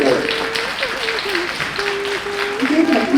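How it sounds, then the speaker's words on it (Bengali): Audience applause rises for a dance performance on a Bengali TV dance show, a steady wash of clapping that carries through the whole stretch, layered with a background melody and a voice. "আরে জোরে হাত তালি।"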